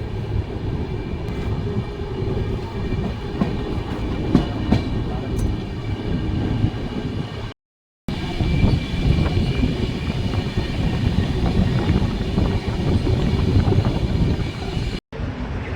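A Howrah–Haridwar express train (13009) in India rumbles steadily along the rails, a loud continuous roar with rattling, heard from aboard, with a brief cut partway through.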